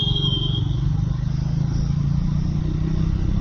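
Steady road traffic at night heard from inside a moving car, a continuous low engine and tyre rumble with passing vehicles, no voices.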